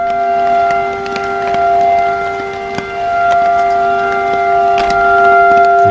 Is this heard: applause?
no